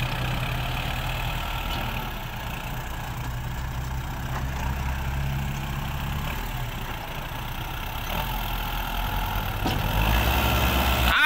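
A tractor engine runs steadily while the machine is stuck deep in mud, its low rumble holding throughout and swelling slightly louder near the end, with no speech.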